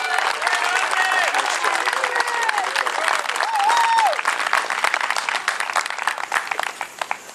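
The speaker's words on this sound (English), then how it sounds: "Ladies and gentlemen, a big round of applause for Ovide Lamontagne." Loud, sustained crowd applause at a Tea Party rally in Dover, New Hampshire, greeting Ovide Lamontagne, with dense clapping throughout and cheers and whoops rising above it before the clapping thins toward the end.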